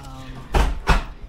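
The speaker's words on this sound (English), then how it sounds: "that's a heavy door." A heavy hotel room door in a New York Chelsea hotel closes, giving two dull, low thuds about a third of a second apart over quiet room tone.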